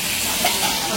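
Potatoes frying in a pan during home cooking of rice, fried potatoes and dal on a rainy afternoon: a steady, dense sizzle with faint bubbling, continuous and fairly close.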